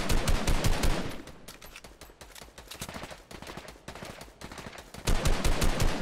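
Fortnite gunfire: dense rapid shots at the start, sparser single and clustered shots through the middle, then another loud fast burst at the end.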